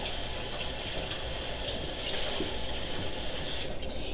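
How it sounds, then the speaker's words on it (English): Water runs steadily from a kitchen tap into a pan or container, a constant rushing fill at moderate level with no talk over it. "I'll let that fill up with water."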